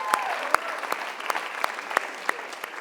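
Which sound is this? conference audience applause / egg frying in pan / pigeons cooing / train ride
conference audience applause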